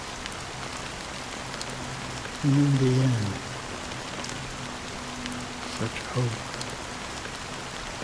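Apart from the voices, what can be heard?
rain falling, from the video game Honkai: Star Rail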